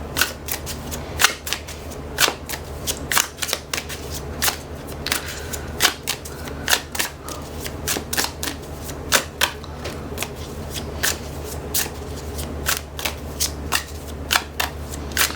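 An oracle card deck being shuffled up close, with a steady run of crisp slaps and riffles repeating irregularly throughout, no voices.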